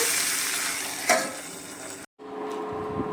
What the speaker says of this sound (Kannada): ಇವಾಗ ಒಗ್ಗರಣೆ ಹಾಕ್ಕೊಳ್ಳೋಣ